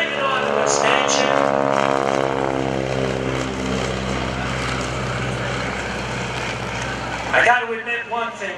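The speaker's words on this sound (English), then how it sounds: "Not only does this airplane have a kicking sound" A wingwalking biplane at the 2015 Greenwood Lake Airshow gives a loud, droning propeller engine note whose pitch sweeps downward as it passes. The sound then thins into a rougher, fading rumble.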